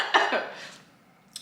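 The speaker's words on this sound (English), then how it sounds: "Confirmation cough." A single person coughs twice in quick succession, close and fairly loud, followed by a short faint breath or throat sound after a pause.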